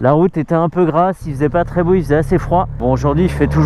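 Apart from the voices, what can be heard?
No everyday noise stands out behind the speech.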